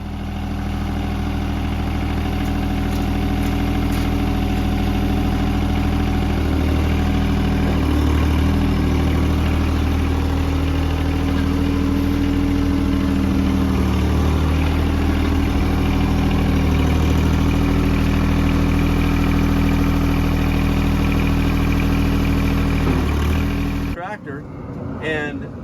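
A car engine running while being driven, a loud continuous low rumble and hum that holds steady for most of the stretch before cutting off abruptly near the end.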